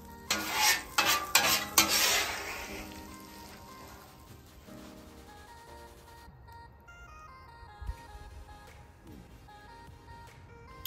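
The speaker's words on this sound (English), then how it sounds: "Don't forget that butter on the griddle." Butter sizzling on a hot griddle beside salmon and vegetables, a crackling hiss with metal spatula scrapes and clinks early on, fading to a quieter fry.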